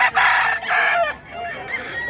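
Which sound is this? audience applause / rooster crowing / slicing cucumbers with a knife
rooster crowing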